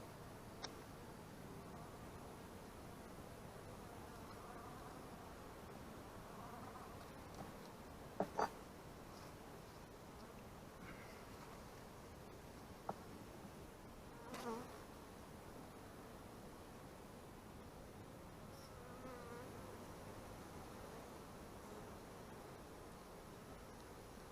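Honeybees hum in an opened hive full of brood, a faint, even, soft buzz lying under a light rustle, with a few small clicks and knocks near the hive.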